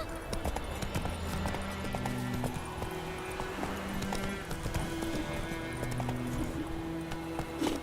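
Horse hooves galloping in The Witcher 3: Wild Hunt, a steady rhythmic clip-clop at a running pace throughout, close and prominent, with faint ambient game sounds behind.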